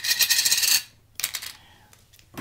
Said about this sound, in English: Taking that lid off.